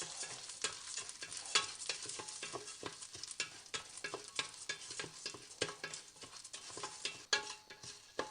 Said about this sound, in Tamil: குக்கரில் ஒரு ½ ஸ்பூன் நெய் ஊற்றிட்டு லேசாக வந்து பாசிப்பருப்பை வறுத்துக்க போகிறேன்.